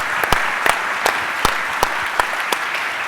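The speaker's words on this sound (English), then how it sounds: "Let's just give them a round of applause" At an evening speaker-series event on religion and civic society, a few listeners clap sparsely: distinct, separate claps ring out roughly every half second, rather than a full crowd roar, over a quiet room.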